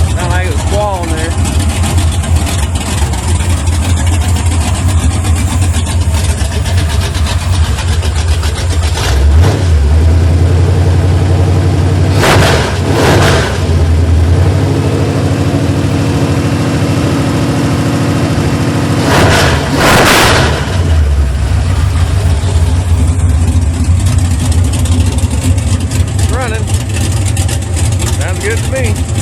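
A 1970 Impala's 406 small-block V8 idles steadily on a cold start, a loud continuous rumble with a loose belt, briefly revved twice in strong bursts before settling back to idle.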